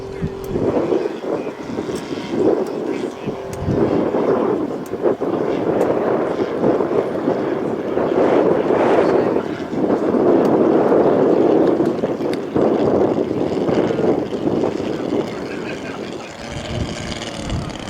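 Radio-controlled scale model aircraft flying at the 2023 Popham model air show, its engine a steady, fairly loud drone with wind noise while a commentator talks over it.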